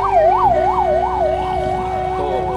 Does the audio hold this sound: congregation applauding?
no